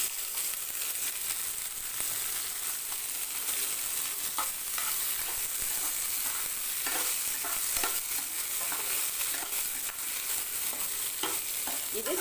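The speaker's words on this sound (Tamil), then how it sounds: "அடுத்து பூண்டு 1 கட்டி, தேங்காய் கொஞ்சம், இஞ்சி 1 பல், தக்காளி 2, வெங்காயம் கொஞ்சம், இதெல்லாமே வதக்கிக்கலாம்" Garlic, coconut, ginger, tomato and onion sauté in hot oil for an Indian egg curry base, with a steady close sizzle and frequent scrapes and clinks of stirring throughout.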